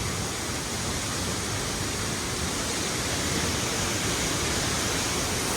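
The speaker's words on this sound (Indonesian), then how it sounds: "Keren banget air terjunnya." Heavy water flow at the Curug Putri Palutungan waterfall in rain, a loud, steady broadband roar filling the whole clip close up, with no voices over it.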